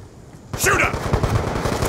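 Sudden burst of rapid automatic gunfire in Black Ops 2 multiplayer, loud and close after a quiet moment, a fast chattering rhythm of shots under a player's voice.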